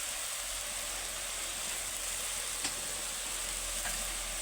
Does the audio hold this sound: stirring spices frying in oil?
yes